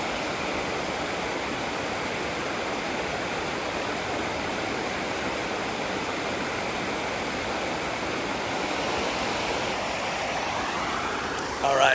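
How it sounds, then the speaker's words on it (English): The Trinity River near Press Cafe rushes steadily in a loud, broadband roar of flowing water, close and unbroken throughout, with a brief louder swell at the very end. "This is the Trinity River, right over by Press Cafe."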